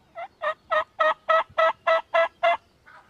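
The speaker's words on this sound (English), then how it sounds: "So this tom set up behind us and was just gobbling his head off" A wild turkey tom calls during the opening weekend of New York State turkey season, giving nine loud, evenly spaced calls about a third of a second apart from close range, followed by a fainter, shorter call.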